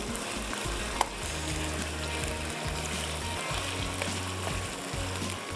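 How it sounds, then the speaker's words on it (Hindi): Chicken frying in a pan with ginger garlic paste hisses steadily and evenly, with faint clinks of stirring and a low hum underneath. "अब खूब अच्छे से करेंगे इसकी बुनाई, ताकि चिकन जो हमारी अच्छे से हो जाए फ्राई।"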